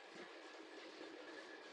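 A steam train rolling slowly along rails through flower fields, a steady close rumble and rattle of the carriages with faint rhythmic clatter throughout.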